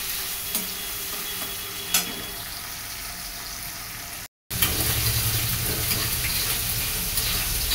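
Potatoes frying in a pan, being stirred through a loud continuous close sizzle, with a couple of sharp scrapes of the spoon and a brief cut midway before the hiss resumes.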